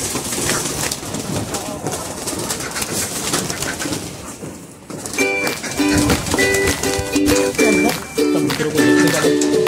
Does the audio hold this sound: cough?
no